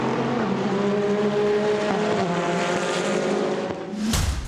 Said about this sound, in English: Matteo Crosoni in the 80 Iron Lynx car being slipstreamed by Alessandro Pierguidi for Spirito Race